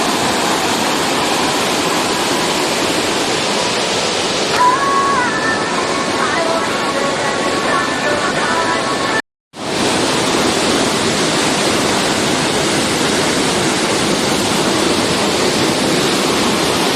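Muddy floodwater rushes over a waterfall in a loud, steady, close roar that fills the whole stretch and cuts out briefly midway.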